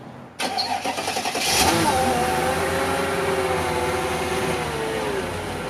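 A Mercedes S55 AMG engine cranks and catches, then settles into a steady, loud idle close by with no talking.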